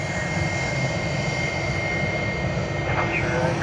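An Emirates jet departs Sydney Airport for Dubai with a steady, continuous engine rumble and hiss. The sound stays fairly distant and constant throughout.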